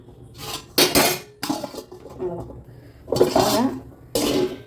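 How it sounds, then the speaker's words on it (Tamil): A metal lid clanks onto a pot of simmering tamarind curry among several close, sharp clinks of cookware. "இப்போ மூடி வச்சிட்றேன்"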